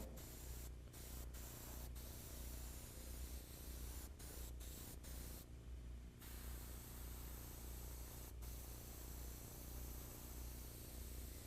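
An airbrush sprays paint steadily along a frisket edge in a fantasy illustration, giving a close, continuous hiss broken by a few brief stops.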